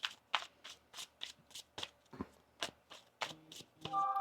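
Tarot cards being shuffled by hand, a quick series of crisp riffling snaps and soft taps in an irregular rhythm, close and fairly quiet, with no talking.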